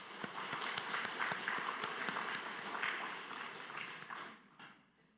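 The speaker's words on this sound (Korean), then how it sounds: "우리 할렐루야 찬양대 또 주일 경배 찬양팀 축복하고 격려하는 박수 하도록 합니다" Church congregation applauding the Hallelujah choir and Sunday worship praise team during a Sunday service, a dense steady wash of clapping that holds for several seconds and then tapers off near the end.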